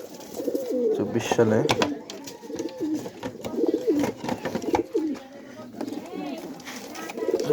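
Caught pigeons coo repeatedly in low, throaty bursts close by, while someone speaks over and between the calls.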